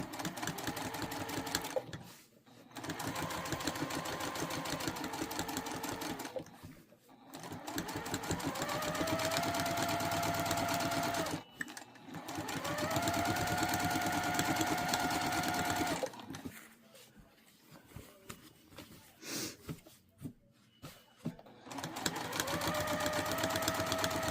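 Sewing machine running in bursts during free-motion quilting of a layered quilt sandwich, its motor whirring steadily for several seconds at a time with short pauses between runs and shifts in speed.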